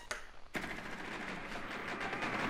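Dense exchange of gunfire in a Rainbow Six Siege match, a sharp shot opening a continuous stretch of rapid automatic fire that stays loud and busy throughout.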